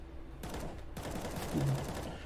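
Gunfire in Counter-Strike during a professional match: two sharp bursts of shots sound close and loud over steady game noise, with no talk.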